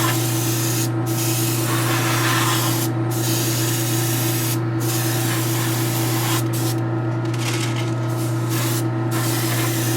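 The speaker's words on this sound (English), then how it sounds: "I need to clean out the airbrush because that Freak Flex stuff is kind of old" An airbrush spraying Freak Flex paint onto a statue base, a continuous close hiss broken by several short pauses as the trigger is released.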